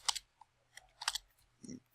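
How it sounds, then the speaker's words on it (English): Keys on a computer keyboard clack in a few uneven bursts of quick clicks, faint and close in a quiet room, with no speech. "typing poorly"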